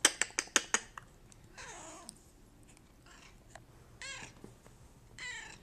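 A cat meows several times, with a burst of sharp clicks at the start and drawn-out, wavering cries afterward, fairly close and with no speech.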